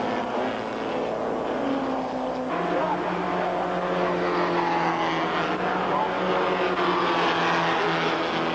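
Porsche 944 race cars at full throttle on a circuit in the 1986 Canadian Rothmans series, a steady loud engine drone with gear-change steps and a rising pitch under a commentator's voice.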